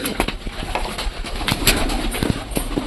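Pet pigeons coo repeatedly close by, with several overlapping soft calls and a few sharp clicks or wing flutters in a busy loft.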